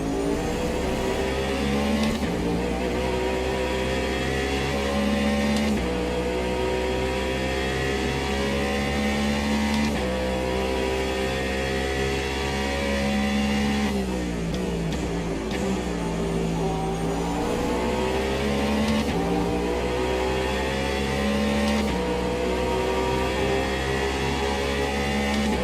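Porsche and BMW race car engines at Interlagos in Automobilista 2, a steady loud droning roar with repeated rises in pitch and sharp drops at gear shifts, continuous throughout with no talk.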